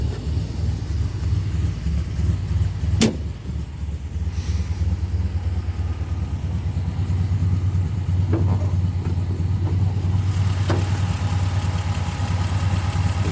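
A 1969 MG MGC roadster engine with rebuilt carburetors idles steadily and quietly at close range, a smooth low hum with a few faint clicks and knocks over it.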